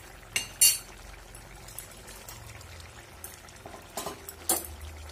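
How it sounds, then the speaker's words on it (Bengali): Fish pieces going into a simmering curry give a few splashing plops and soft liquid pours, with faint bubbling and stirring between them, close and fairly quiet, with no speech. "এখন আমি মাছগুলো দিয়ে দেবো।"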